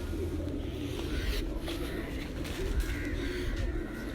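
Jugnu breed pigeons coo at a low, steady pitch under a constant hum of loft noise, with fainter bird calls scattered through and no one speaking.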